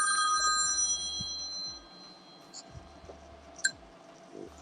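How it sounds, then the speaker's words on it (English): A telephone bell rings in a home during a casual goodbye, with repeated bright ringing bursts at first that fade into low room noise and a few faint sounds. "Ringing."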